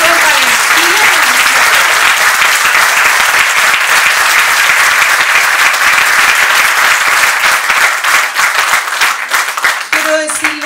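Sustained, loud audience applause fills a hall at a book launch for the complete works of Osvaldo Lira, with dense clapping that thins slightly toward the end, and a voice briefly heard over it.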